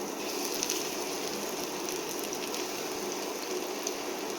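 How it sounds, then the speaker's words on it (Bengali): Chicken pieces frying in hot oil for dry chilli chicken, a dense, even sizzle and crackle that holds steady and fairly quiet throughout. "এবার এই চিকেনগুলো আস্তে আস্তে করে এর মধ্যে দিয়ে দেবো"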